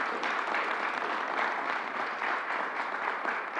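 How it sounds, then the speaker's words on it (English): Steady applause from a crowd at a New York City briefing by Governor Cuomo on April 23, 2021, dense clapping continuing evenly throughout without any pauses or talk. "Let's give her another round of applause."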